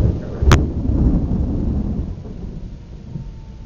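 Rain begins falling during a summer thunderstorm in Roseland, with a sharp crack near the start followed by a loud, rumbling wash of thunder and rain that slowly fades.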